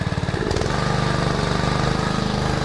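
Small engine on a pump unit starting at full choke, catching within a second and settling into a loud, steady, fast-pulsing run close by.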